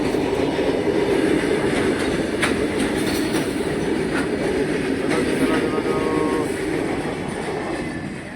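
A train rumbles past continuously, with loud, steady roaring and faint clickety-clack of wheels throughout, easing slightly toward the end.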